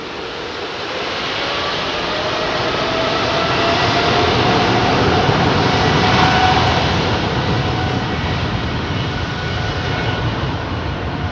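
A jet airliner at London Heathrow spools up its engines for departure, a broad, loud roar that swells steadily for several seconds, peaks, then holds as a sustained rushing drone.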